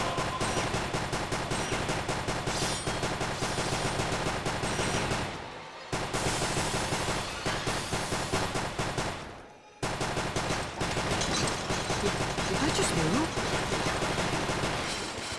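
Dense, continuous gunfire in the Haunted Museum video game rattles on loudly for long stretches, broken by two brief pauses, with no talk heard.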